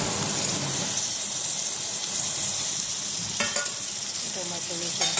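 Tomato going into a pan of reddish fried onion and potatoes, with a steady close sizzle, stirring scrapes and a few brief clinks toward the end.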